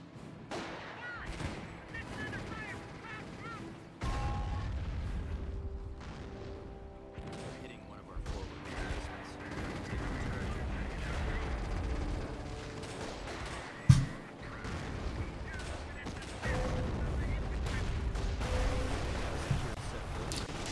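Anti-tank guns and artillery firing in the Company of Heroes Normandy invasion campaign, with booming shots and mechanical clanks scattered through a steady rumbling battle bed, one sharp loud blast standing out midway.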